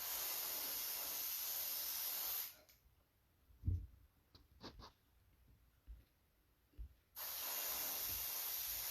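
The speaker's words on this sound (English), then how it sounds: "This is an Awada airbrush, and it is by far my favorite" A paint airbrush sprays a crankbait in two steady hissing bursts, one at the start and one at the end, with a quiet gap between them that holds a few soft clicks and handling knocks.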